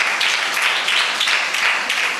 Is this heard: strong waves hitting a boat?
no